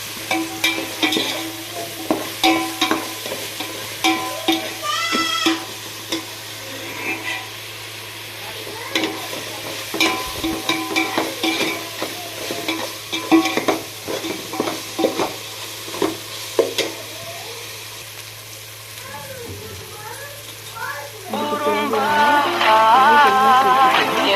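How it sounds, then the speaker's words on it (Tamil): A spatula scrapes and stirs ginger garlic paste in a pan over a steady sizzle while making vegetable biryani, with a voice talking intermittently; the frying grows louder near the end. "அதையும் சேர்த்து நல்லா வதக்கி விட்டுக்கலாம்"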